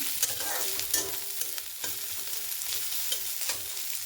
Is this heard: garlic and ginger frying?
yes